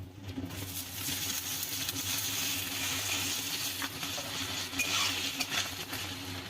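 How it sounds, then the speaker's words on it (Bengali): Onions frying in a pan for Bengali fish curry with chopped tomato added and stirred, a soft continuous sizzle with light scraping and patter, quiet and close. "পেঁয়াজটা হালকা লাল ভাজা হয়ে গেছে, এবার এর মধ্যে দিয়ে দেব টমেটো কুচি।"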